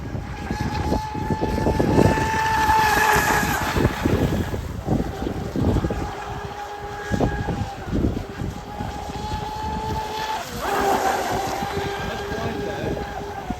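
Buzzing electric motor hum from a small RC boat's outboard running steadily outdoors on a 3S 8000mAh LiPo, with gusts of wind noise against the microphone.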